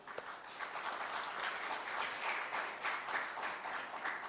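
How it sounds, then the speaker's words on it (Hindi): An audience at a spiritual gathering claps in a soft, continuous patter of many hands, heard faintly and from a distance with no voices over it. "आप ताली से खुश हो जाइए"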